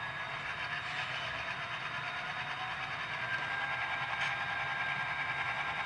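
A faint, steady engine drone from a model locomotive sound chip hums with a tonal whine, slowly rising slightly in level as it revs up.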